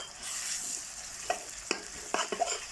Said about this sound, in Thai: ผัดเครื่องผัดใส่กับน้ำมัน เครื่องผัดนี้จะมีพริก มีกระเทียมมีกระปิมีหอมแดงครับ